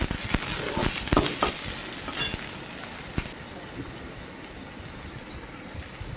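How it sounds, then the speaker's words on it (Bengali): Onion with ginger and garlic paste frying in a pan makes a close sizzle with stirring scrapes and clinks of the spoon, busier at first and then settling into a quieter, steady fry. "আদা রসুনটাকে ভালো করে পেঁয়াজের সাথে মিশিয়ে ভালো করে কষিয়ে নিই।"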